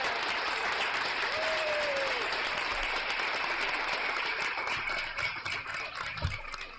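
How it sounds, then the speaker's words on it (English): Applause from a crowd cheering on the Raiders of Valhalla Sports, a steady broadband patter of many hands clapping for several seconds, with a faint low rumble and a thud near the end. "This applause is for all the Raiders"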